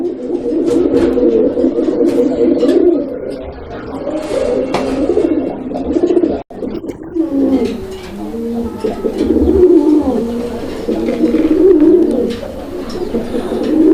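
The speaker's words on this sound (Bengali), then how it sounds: "একদম ভরপুর ডাকের কবুতর" Raj-golla pigeons coo repeatedly in low, rolling calls, several birds close together, with faint background noise and no talk.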